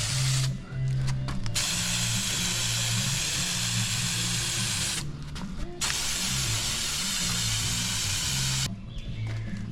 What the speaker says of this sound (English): The directions say spray it, let it tack up